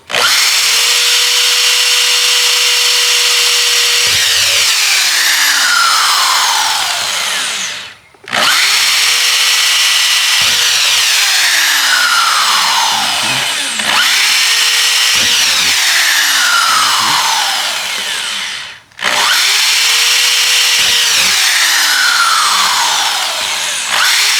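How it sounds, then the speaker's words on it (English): A power drill whines loudly and steadily in three long bursts, drilling holes in a plastic garden container, each one dropping and winding down before starting again, with a short pause between. "that drill's pretty strong, so it don't take long"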